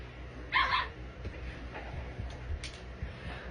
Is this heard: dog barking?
yes